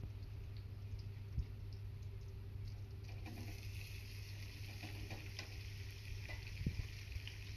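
Chopped tomatoes and onions sauté in an oil-filled pan with curry leaves for tomato rice, giving a steady, close sizzle that holds level throughout with a couple of faint utensil taps and no talking.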